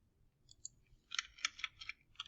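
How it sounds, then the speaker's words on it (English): Someone types on a computer keyboard in quiet, scattered key clicks, a few isolated taps and then a quicker cluster, faint and close. "I'm not doing a great job of typing"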